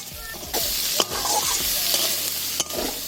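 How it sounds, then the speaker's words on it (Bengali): Beans, capsicum and onion stir-fried in ghee with cashews and raisins, a steady sizzle running throughout with repeated scraping stirs of the spatula against the pan. "বিনস, ক্যাপসিকাম, পেঁয়াজ সব কিছু খুব ভালো মতো একসাথে ভেজে নেব"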